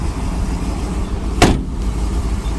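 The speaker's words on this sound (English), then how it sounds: "Door shut's nice." A red 1979 Camaro's door shuts with a single solid thunk midway, against a steady low rumble of nearby vehicle noise, followed by a faint click near the end.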